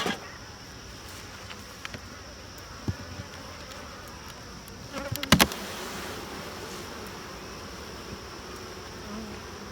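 Honeybees drone steadily at an open, feisty hive during an inspection. Individual bees pass close by now and then, and a louder brief buzz rises near the middle. No one speaks.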